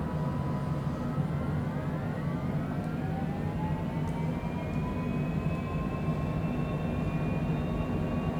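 An airplane slows on approach with landing gear down and full flaps, a steady loud rumble of airflow and engines with rising tonal whines sliding upward, continuous and close inside the aircraft.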